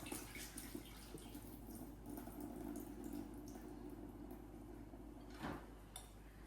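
Water straining out of grated potatoes squeezed through cheesecloth for latkes, a faint continuous trickle and drip in a kitchen with a soft splash near the end.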